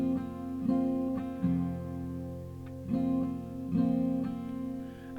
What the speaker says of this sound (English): plucking your bottom notes once and strumming your top notes for a total of 4 times in the down up pattern